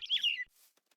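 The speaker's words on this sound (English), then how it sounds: "it's a little bird" A small bird chirps once in a brief bright trill inside modded Minecraft, close and clear, followed by faint soft ambience and near silence.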